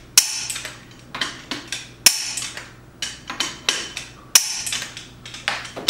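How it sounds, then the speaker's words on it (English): Lug nuts on a C7 Corvette wheel being tightened with a torque tool: repeated sharp metallic clicks and clanks in quick bursts, close and fairly loud, grouped in three similar runs with no talking. "I'm just going to make sure that all my lug nuts are torqued"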